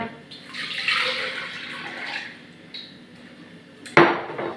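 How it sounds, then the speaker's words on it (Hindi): Water pours into a container for a peach soda juice, making a soft continuous splashing rush that tapers off, followed by a sharp close clunk near the end. "ये हमने पहले पानी डाल दिया"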